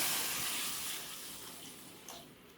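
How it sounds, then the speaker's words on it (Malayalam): Water pours steadily into a pan of roasted semolina for rava upma, a broad splashing rush that stays loud throughout and eases slightly toward the end, with no voices. "കുറച്ച് അത് വേവാനുള്ള വെള്ളം ഒഴിച്ച് കൊടുക്കുക."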